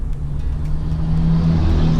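A 12-valve Cummins diesel truck engine, built past 2,000 horsepower, drones with a deep steady rumble close by, its pitch rising slightly near the end as it seems to build revs.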